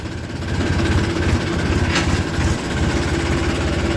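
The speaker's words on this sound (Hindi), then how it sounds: "दूसरे गियर में ही छोटा चला जाता है ट्रैक्टर" A small Kubota tractor engine running in muddy farm ground, a steady close mid-pitched diesel drone with a rattling pulse, continuous and fairly loud.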